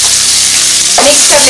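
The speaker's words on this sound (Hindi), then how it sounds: "तेल गरम हो चुका है, अब हम इसमें जीरा डालेंगे, कटा हुआ प्याज डालेंगे, हरी मिर्च डालेंगे" Cumin, chopped onion and green chilli sizzle loudly in hot oil, a dense close frying hiss that carries on steadily with a brief stirring scrape near the end.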